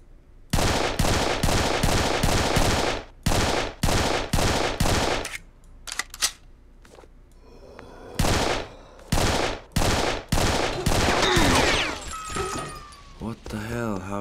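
Rapid bursts of gunfire in the Serious Sam video game, loud repeated shots in rhythmic clusters, pausing briefly and then resuming, with game effects scattered between.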